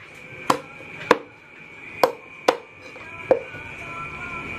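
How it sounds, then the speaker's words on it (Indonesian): Five sharp knife chops through fish heads and fins at a traditional smoked-fish processing site in Klang, Selangor, evenly spaced and close, over a steady background hum. "memotong bagian depan kepala ikan geli dan sirip, dua sirip kanan kiri"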